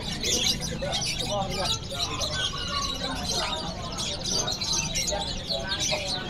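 A large flock of around 500 canaries chirping and twittering nonstop, a dense, bright chorus of overlapping calls, with voices talking among the birds.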